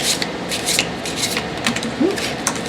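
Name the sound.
tarot cards being shuffled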